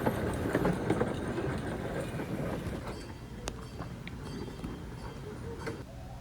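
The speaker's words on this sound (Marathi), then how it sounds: "इथे आवाज वगैरे ट्रेनचा वेगळा येतो, हॉर्न वगैरे वेगळा आहे" A Pullen Park miniature train rolls along its rails, its wheels keeping up a steady clatter and rumble with a few sharp clicks and ticks as the ride continues.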